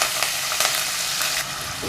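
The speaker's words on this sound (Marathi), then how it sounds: "ह्या मी एक कांदा बारीक करून घेतलं आहे थोडा कढीपत्ता घेतला आहे हे आपण आता ह्या तेलामध्ये घालून घेऊया" Chopped onion and curry leaves hit hot oil in a pan, giving a loud, dense, steady sizzle and crackle at close range with faint stirring scrapes.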